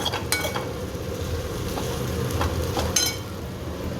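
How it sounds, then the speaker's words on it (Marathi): Curry leaves and chillies sizzle in hot oil for a phodni tempering, a steady frying hiss with a few sharp crackles and light stirring clicks, no voices. "कढीपत्ता हे सगळं घालून फोडणी देणं"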